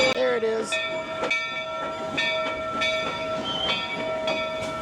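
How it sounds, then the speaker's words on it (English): The Rio Grande Southern train at Knott's Berry Farm rumbles past nearby with steady mechanical noise, a sustained horn-like tone running throughout and faint clattering underneath. "The train must be coming."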